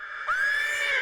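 A horse in the video game Titanfall lets out a single loud, high whinny that rises then holds and trails off, close and clear with no talk over it.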